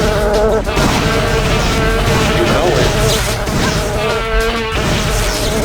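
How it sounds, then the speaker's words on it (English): Metal mosquito enemies in the shooter game Daikatana keep up a dense, loud, continuous insect-like buzzing over game noise, with a voice speaking briefly over it. "mosquitoes are coming"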